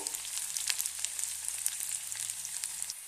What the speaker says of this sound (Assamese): অলপমান ইয়াতে দি দিম কাটি লোৱা পিঁয়াজখিনি আৰু কেঁচা জলকীয়াখিনি দি দিছোঁ ইয়াতে